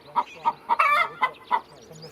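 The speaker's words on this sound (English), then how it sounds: "The chickens are another of Nicky's indulgences. They are mostly Potchefstroom koekoeks or Bosvelders." Potchefstroom koekoek or Bosvelder chickens, hardy indigenous breeds roaming a garden beside vineyards, give a quick run of about six clear clucks in uneven rhythm, close and fairly loud with no talk.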